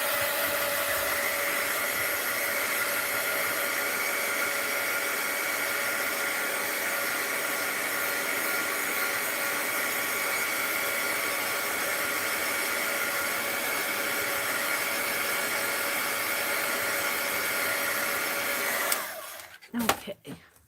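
A hair dryer blows steadily over a mixed-media art journal page, a loud, even whooshing hiss that runs for most of the stretch before clicking off near the end, followed by a few faint handling knocks.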